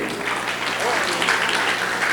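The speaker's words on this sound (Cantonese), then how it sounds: "再次俾一掌聲自己" Applause from a school audience at a junior secondary inter-class choral competition, a steady dense patter of clapping filling the hall, with some talk mixed in.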